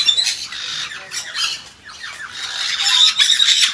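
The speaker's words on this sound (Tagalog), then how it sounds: "Iba't ibang klaseng mga ibon makikita dito." Harsh, high-pitched bird squawks and chatter overlap continuously, loud and close, with no voices.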